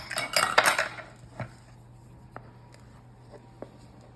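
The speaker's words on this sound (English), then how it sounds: "now we're going to take a spatula and dump it into our 9x13 greased" A spatula scrapes thick batter into a greased 9x13 baking pan, with a burst of close clattering and scraping at the start, then a few scattered soft knocks and taps against the pan.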